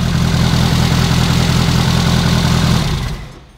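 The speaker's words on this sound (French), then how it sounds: "on a juste fait un premier démarrage" A Renault R8 Gordini engine runs steadily at a loud, even idle just after its first start, a continuous low rumble that cuts off and fades away near the end.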